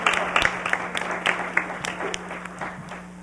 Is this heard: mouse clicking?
no